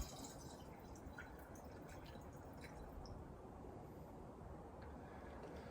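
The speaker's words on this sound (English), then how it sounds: "So I'll continue pouring." Water is poured steadily into the sight tube of a Model T6633 Brown's gas generator, a continuous soft liquid gurgle with faint dripping, fairly quiet and close, with no talking.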